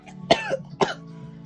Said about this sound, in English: began to profusely cough up blood